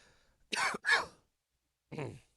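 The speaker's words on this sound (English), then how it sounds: "Excuse the cough." Two sharp coughs in quick succession, followed after a pause by a third softer cough, close to the microphone in an otherwise quiet room.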